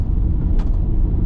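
A 2012 Subaru Legacy with a six-speed automatic gearbox rolls along with a steady, low rumble from inside the car, even and unbroken with no talk.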